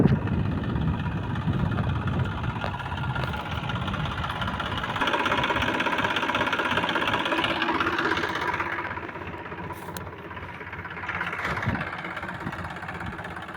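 A 5245 tractor engine idles with a steady low rumble that holds close and fairly even, easing slightly softer toward the end, with no voices over it.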